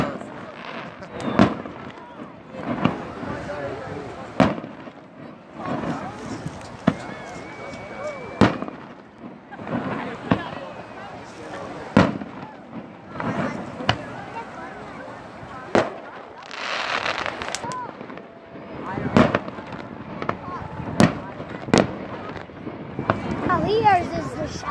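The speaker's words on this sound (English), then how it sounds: "Look at the fireworks." Fireworks bursting at Fort Bragg, a long run of sharp booms and crackles that repeat irregularly every second or two, loud and fairly close, with people talking between the blasts.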